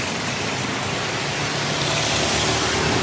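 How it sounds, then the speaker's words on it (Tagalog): Heavy rain pours down in a steady, dense roar with no break, loud and close, with no voices over it. "dahil sa lakas ng ulan, bahala dito din sa amin"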